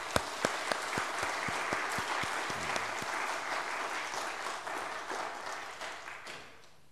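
A church congregation gives a round of applause for the women's mission group, starting with a few sharp early claps before swelling into steady crowd clapping that fades out near the end.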